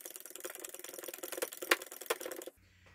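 A wrench works a fitting on a homemade Mercedes diesel injector pop pressure tester, giving a run of close, dense ratcheting clicks and metallic rattles that stop abruptly, leaving near silence.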